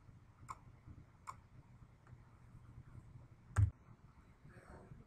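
Computer mouse clicks, three or four sharp isolated taps spaced irregularly, close and quiet against a faint hum.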